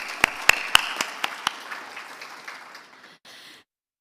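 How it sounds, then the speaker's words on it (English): Audience applause at a business summit in Islamabad: several loud, sharp claps at first, then a dense, even patter of clapping that thins out and stops within about three seconds. "So a big round of applause for all our partners before we formally start"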